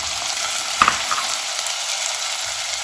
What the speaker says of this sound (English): our green curry paste has been simmering in coconut oil